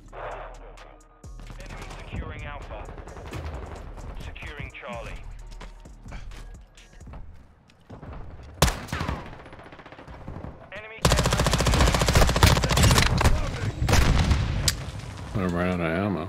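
Gunfire in the video game Call of Duty Modern Warfare 2, with a BAS-P SMG in the Shoot House map: bursts of automatic fire and shots mixed with game voices and radio chatter, then a loud sustained barrage of rapid firing near the end.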